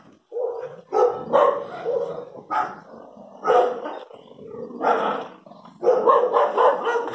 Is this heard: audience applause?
no